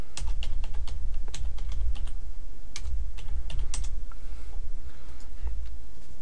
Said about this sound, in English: So we'll type the password here.